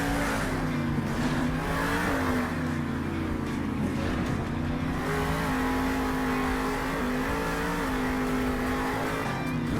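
Engines of monster trucks from the Mad El Toro Loco gang roaring steadily as they drive off into the desert, a continuous loud throaty drone with slight pitch shifts and no talk.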